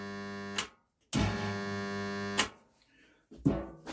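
A scrap SIP stick welder, powered up with no welding rods fitted, gives off a steady electrical hum in three bursts, switching on and off with short silent gaps in between.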